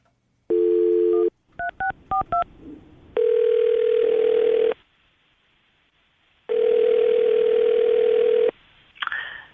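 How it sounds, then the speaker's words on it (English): Phone keypad tones dial a number, then two long ringing tones sound on the line, each followed by a pause. "We're going to call him right now and see if we can get him on the phone"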